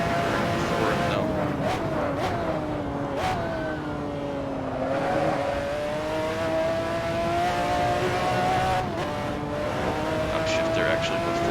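A McLaren F1 GTR race car in the racing game Assetto Corsa holds a loud engine whine that climbs and drops through gear changes and braking, with faint tire noise and a voice talking over it.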